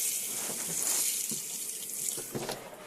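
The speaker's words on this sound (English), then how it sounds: "open the taps. Obviously what you want to do, you want to open it on hot, then cold, just to get all the air out of the system." Tap in the bathroom sink of a Coachman Pastiche 575/4 caravan running to purge air from the water system, a steady close rush with a few spluttering bursts.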